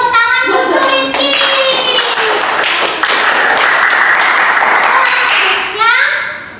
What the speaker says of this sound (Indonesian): Beri tepuk tangan untuk Rizky.